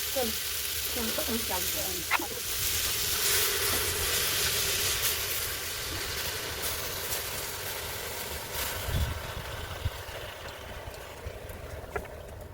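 Marinated meat tipped into a hot pan with tomatoes and spices, frying outdoors at a rooftop picnic; a continuous broad sizzle with occasional scrapes and background noise.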